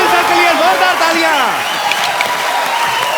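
Studio audience on a comedy talk show breaking into steady, loud applause for actor Anil Kapoor, a dense wash of clapping with crowd noise under a speaking voice.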